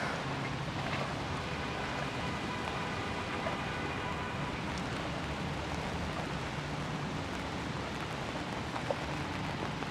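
Rain falls steadily on a Manhattan street during a city walk, a soft, even wash of hiss with faint wind noise, heard from a moderate distance and no voices on top.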